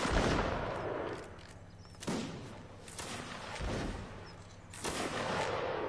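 Musket volleys in Mount & Blade: Napoleonic Wars game crash out in rolling, overlapping bursts, with loud booming waves of gunfire repeating every couple of seconds.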